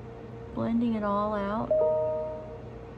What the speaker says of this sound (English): That's my computer. I'm sorry about that ding noise.